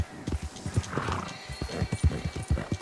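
A horse galloping in the video game Red Dead Redemption 2, rhythmic hoofbeat thuds in quick repeating groups, moderately close over a soft game ambience.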